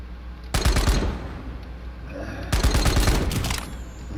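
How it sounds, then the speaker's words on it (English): An underwater weapon in Planetside 2 fires two rapid bursts of shots, each lasting about a second, with a gap of low background rumble between them. "This is one of the underwater weapons."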